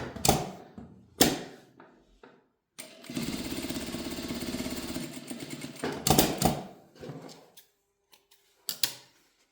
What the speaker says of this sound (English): We'll sew the opposite way this time.